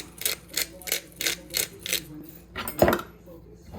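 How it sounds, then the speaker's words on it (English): A fork mixes salt and pepper into a softened mixture in a bowl, giving a run of quick, evenly spaced clinks and scrapes against the bowl, close and clear, ending in one louder knock. "we're gonna take our fork and mix it very well"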